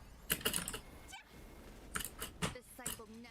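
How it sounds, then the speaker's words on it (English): Fast bursts of typing on a computer keyboard while chatting during a MapleStory Blaze Wizard grinding session, clicky clusters of keystrokes with short pauses, game sounds and voices around them. "Oh, I was typing in chat."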